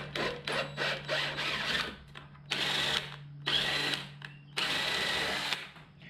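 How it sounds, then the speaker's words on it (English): A power tool chases bolt holes for a bumper, revving in several short whirring bursts and then longer, louder grinding runs with pauses between, over a steady low hum. "I need to chase these holes because this thing was eating up some bolts."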